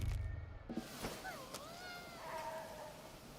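A cat meows several times in Ghostwire: Tokyo, a wavering, pitch-bending cry near the middle followed by a fainter, drawn-out meow, heard over a soft low rumble at moderate-to-quiet level with no talking.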